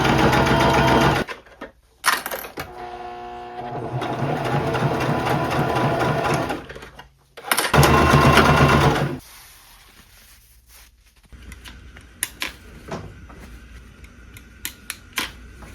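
A sewing machine runs straight stitches along a hem on a thrifted garment in several bursts of fast, steady whirring, each stopping abruptly, with quiet handling clicks and taps after the last run.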